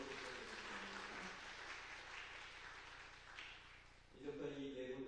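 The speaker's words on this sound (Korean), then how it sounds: "다시 한번 박수로 부탁드리겠습니다." A church congregation applauds during a Sunday morning service after a baptism, sustained soft clapping from many hands heard at a distance, fading out before a voice speaks at the end.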